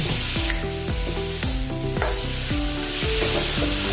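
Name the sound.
stirring palak mooli curry in pan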